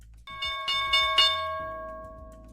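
A bell rings out for the market open, three or four quick metallic strikes in a row followed by a long ringing decay, clear and alone.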